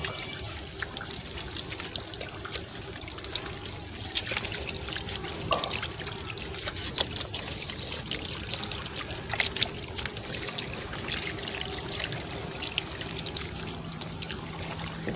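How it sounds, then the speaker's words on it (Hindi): Water pours and trickles steadily and close by, an unbroken splashing flow with no voices. "ये देखिए आवाज़ तो आई रही होगी आपको, पानी की आवाज़ आ रही है ना आपको"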